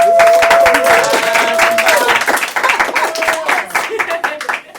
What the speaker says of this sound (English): We were clapping to your video